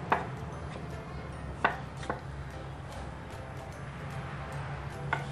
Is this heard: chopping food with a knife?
yes